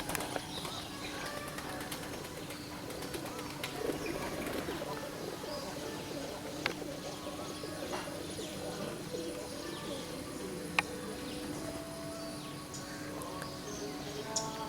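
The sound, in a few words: racing pigeons cooing in loft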